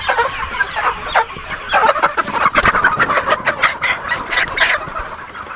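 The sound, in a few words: chickens clucking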